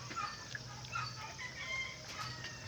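Black Australorp chickens cluck and murmur on a farm, a faint, continuous flock chatter with scattered calls in the background.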